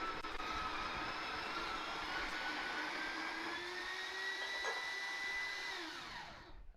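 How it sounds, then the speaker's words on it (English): An electric grinder grinding fresh coffee beans, a continuous high whirring whine whose pitch slowly climbs before it winds down and fades at the end. "I'm going to grind my coffee fresh."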